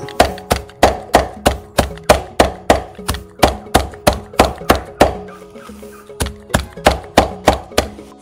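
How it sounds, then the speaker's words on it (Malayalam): Close, regular chopping of yardlong beans (cowpea pods) with a blade for poultry feed: steady sharp thunks, about two to three per second, with a brief pause partway through. "അടുത്തതായിട്ട് നമ്മൾ പയറരിയാണ്, തോട്ടപ്പയർ"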